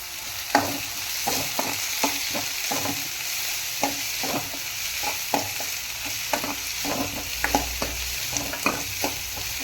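Chopped onions for a semi-gravy chicken keema fry in a hot pan at home, a steady close sizzle broken by frequent scraping stirs of a spoon against the metal.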